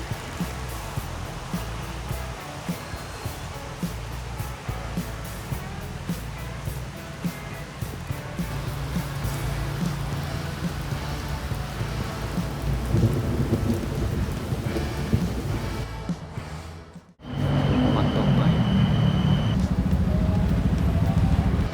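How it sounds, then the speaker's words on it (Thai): Heavy rain pours steadily with low rumbling, then after a brief drop it returns as a dense, loud downpour. "ฝนตกไม่หยุดเลย"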